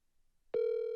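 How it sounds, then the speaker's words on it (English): A phone call rings out after a half second of near silence, one loud steady tone that starts abruptly and holds to the end, close and clear with no talk over it. "It's ringing."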